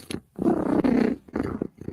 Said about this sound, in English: when Cat is purring, Cat is a happy, happy, happy girl